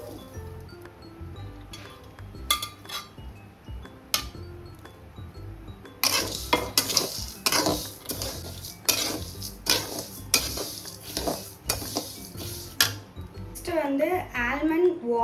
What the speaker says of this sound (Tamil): இப்போ இது எல்லாமே போட்டு நம்ம ஜஸ்ட் ரோஸ்ட் பண்ணி எடுக்க போகிறோம்.